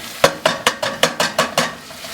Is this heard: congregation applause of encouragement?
no